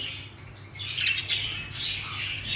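Harsh squawking calls from large birds ring out over a steady background hum, with a couple of louder bursts in the middle.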